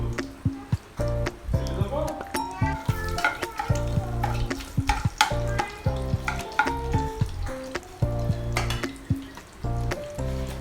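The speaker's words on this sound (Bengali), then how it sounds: "ওই তেলেই আমি একটা তেজপাতা দিয়ে দিলাম, 2টো শুকনো লঙ্কা চিড়ে দিয়ে দিলাম" A bay leaf and two slit dried red chillies fry in leftover oil for a prawn malai curry, giving a steady, close sizzle with small pops and stirring scrapes under melodic background sound.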